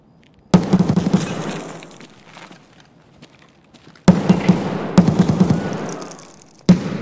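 Gunfire in a video game, heard as loud bursts of rapid shots in several separate volleys, with short quiet gaps between them.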